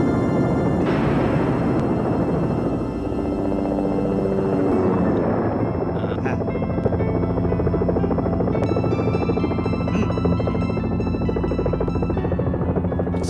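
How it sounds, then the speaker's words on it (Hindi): A helicopter drones loudly and steadily throughout, its dense rotor and engine roar filling the whole stretch with a shifting whine as it runs, with no voices over it. "सर, हेलीकॉप्टर रेडी है"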